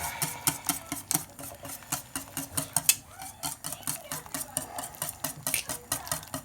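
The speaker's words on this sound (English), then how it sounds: "Let's get a whisk and just try and whisk those out." A whisk beats lumpy macaroni cheese sauce in a pan with quick, rhythmic scraping strokes that repeat steadily and close up throughout, with no talking.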